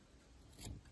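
A single soft scissor snip trims the hair ends on a Stablemate model horse, a brief close crunch just past the middle, set against quiet background hiss.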